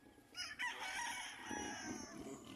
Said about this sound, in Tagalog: Ito ang anak, yung mga manok ni Pacquiao.